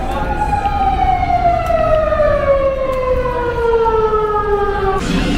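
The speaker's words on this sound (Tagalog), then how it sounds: "May ambulansya sa kanila oh." Ambulance siren sounding loudly on a busy Osaka street, a steady high wail sliding slowly downward in pitch for several seconds over traffic and street noise, close by.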